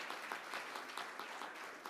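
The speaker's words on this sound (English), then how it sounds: "give her a little applause" Soft, distant applause from a church service congregation honoring a volunteer, a faint steady patter of clapping with no voices over it.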